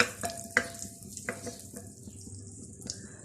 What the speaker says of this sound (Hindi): मक्खन को थोड़ा सा मेल्ट होने देते हैं